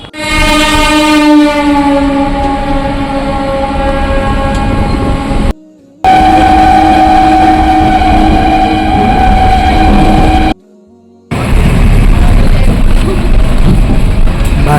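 A train ride heard from on board: a horn sounds at the start, then a loud, steady rumble of the moving train carries on for about fifteen seconds. The rumble is broken by two brief silent cuts.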